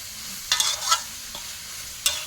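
Bamboo shoots stir-frying in red curry paste with meatballs, with a low steady sizzle and a few sharp scrapes and clinks of the spatula against the pan, close by, with no talking.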